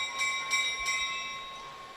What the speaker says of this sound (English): Coming up on the bell lap.